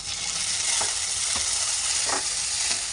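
Chili, onion, curry leaves and tomato pieces fry in hot oil, giving a steady dense sizzle with a few soft stirring scrapes, close and continuous throughout.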